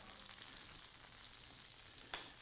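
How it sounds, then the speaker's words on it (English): Butter sizzles softly and steadily in a hot pan, a faint even crackle with one small pop near the end and no voices. "You hear the sizzling starting?"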